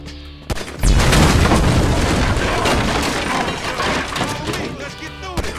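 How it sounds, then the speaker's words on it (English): A gas can explodes in Grand Theft Auto V, a loud, sudden boom that rolls into a long, crackling burn and debris rumble, with a few sharp shots near the end and a voice over the blast. "Shoot that gas can!"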